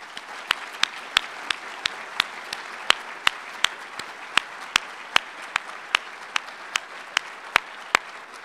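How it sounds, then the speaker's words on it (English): Steady, evenly spaced claps sound close and clear, a regular rhythm of single hand strikes in appreciation of a Creighton University medical mission team back from Haiti, with no talking. "I think they deserve a round of applause"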